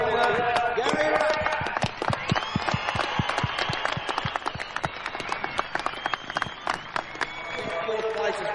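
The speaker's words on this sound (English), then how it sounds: "What about putting your hands together now for the winner, Gary Rowe?" A crowd at a sprint car race breaks into sustained applause for winner Gary Rowe, many hands clapping in a loud, uneven patter with some cheering mixed in.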